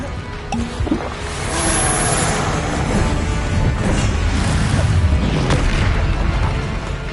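A fiery Confringo spell blast in the game Hogwarts Legacy during a hard-difficulty duel, heard as a loud booming burst followed by rumbling, crackling debris that continues under game audio.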